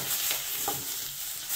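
Wagyu and Thüringer bratwurst sausages rolled back and forth in a hot pan, a steady close sizzle with soft scraping and stirring noises, no talking.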